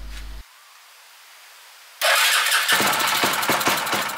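A small engine fitted with a homemade carburetor sits quiet after a short thump, then starts abruptly and runs loud, settling into a rough, rapid putter.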